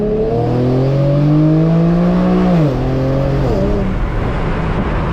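An Infiniti G37 at night revs up hard, its engine note climbing steadily, then dropping sharply at a gear shift and climbing again before a second shift, loud and close from inside the car.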